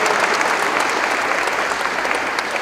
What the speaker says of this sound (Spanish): Sí, por favor, denle un aplauso. Denle un aplauso entre todas ustedes